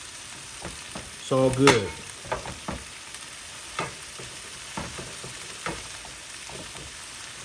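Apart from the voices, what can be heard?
stirring cabbage and bok choy frying in a pan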